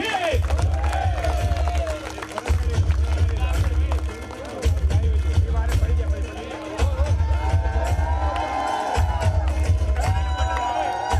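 A crowd at a cricket cup prize ceremony shouting a rhythmic cheer in repeated bursts over a loud pulsing music beat, with clapping and whoops mixed in and a voice on a microphone.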